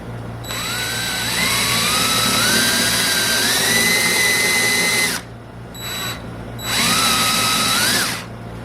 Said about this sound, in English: the next step is to drill some countersunk or counter bore holes